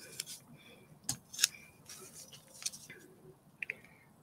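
Scissors snip masking tape in a few sharp, close cuts spread over a few seconds, with a faint voice talking quietly underneath.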